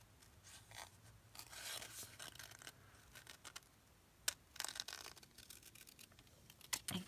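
Scissors snipping through fabric scraps while folding treat bags, a few short crisp cuts near the microphone amid light rubbing and handling of the cloth, no talking.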